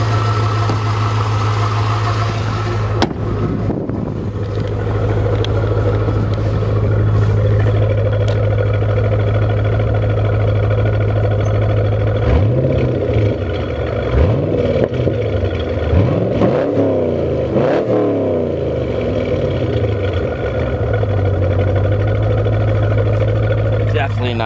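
A stock 5.7 liter 350 V8 in a 2004 Corvette convertible with a six-speed runs at a loud, steady idle, with a few blips of revving partway through, close and continuous.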